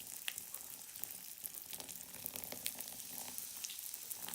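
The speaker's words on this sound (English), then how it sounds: "it makes sense because Coke sizzles itself, you know, it has so much gas" Coke fizzing and sizzling as Pop Rocks react in it on a desk, a steady crackling hiss with fine popping bursts throughout, close and continuous with no voices.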